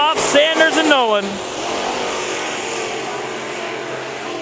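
IMC Modified race cars on the third-mile Bakersfield Speedway, a steady roar of engines heard at a distance, with an announcer's voice at the start.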